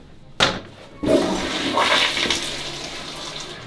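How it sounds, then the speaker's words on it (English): A loud toilet with strong water pressure in a wilderness cabin bathroom flushes close by: a sharp click, then a forceful rushing surge of water that churns on without any talk. "most intense flusher you've ever seen"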